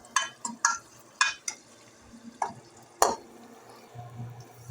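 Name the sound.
potatoes frying in a pan with spices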